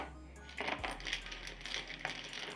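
Hard domino tiles clack and rattle against each other and a table as they are shuffled by hand, a quiet, close run of small irregular clicks.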